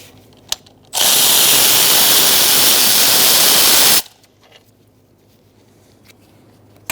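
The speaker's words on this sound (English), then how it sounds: "Now we're going to take out these bolts in the middle." A power tool whirs loudly in a single burst of about three seconds while removing a valve cover bolt on a 2002–2006 Toyota Camry engine, with quiet workshop sounds before and after.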